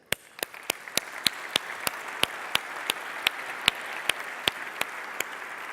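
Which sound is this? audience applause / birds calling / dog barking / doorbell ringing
audience applause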